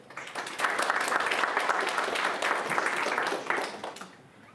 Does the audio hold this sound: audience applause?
yes